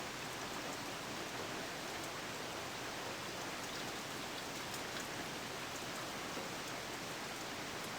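Steady, even rainfall hisses throughout in the Backyard Football 2002 video game, a constant soft patter on surfaces with no breaks and no voices.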